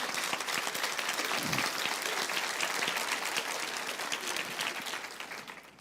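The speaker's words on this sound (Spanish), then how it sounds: "aplauden al Señor si quieren" Congregation applauding in a church service, a dense, steady wash of many hands clapping that holds loud throughout and begins to thin near the end.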